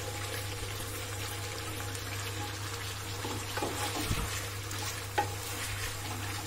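Chicken and onion fry in a pan over medium flame for Kolkata-style egg chicken biryani, a soft continuous sizzle with a few scraping stirs and one sharp clink near the end.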